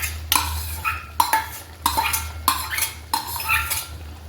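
Chickpeas tipped into a pan of home-style curry and stirred, with five distinct bursts of metal spoon scraping and clinking against the pan, evenly spaced over a low steady hum.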